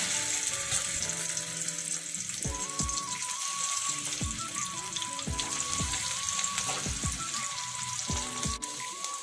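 Prawns fry in hot mustard oil in a pan: a steady bright sizzle with bubbling and occasional stirring clinks, close and continuous throughout.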